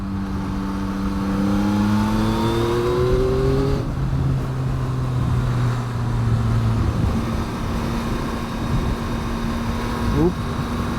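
A Yamaha MT-09 motorcycle engine on the move along a bumpy road: a loud, close engine drone whose pitch climbs through the gears, then holds steady under constant wind rush.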